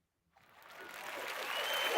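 Applause swells from silence into a dense, steady wash of clapping that keeps building and stays loud to the end, with no talk over it.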